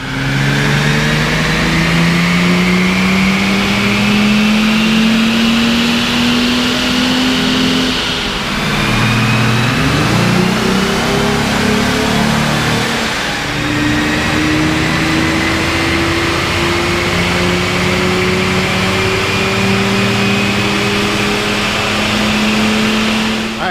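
A car engine revs hard and continuously through a dyno pull on a cold day, rising in pitch, dipping briefly, then climbing again, loud and close, with no talking.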